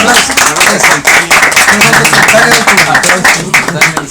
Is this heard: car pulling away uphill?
no